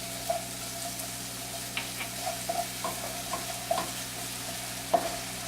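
Mushroom stems, onions and horseradish fry in a pan at a moderate sizzle, with soft scraping stirs and small clinks over a low steady background hum.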